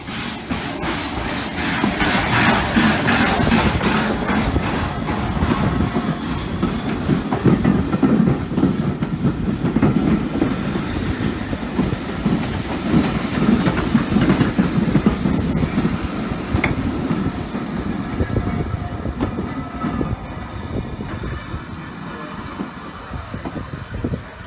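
A steam train, number 3792, rumbles along the rails with rhythmic clattering and occasional high wheel squeals, loud and close, as if heard from on board.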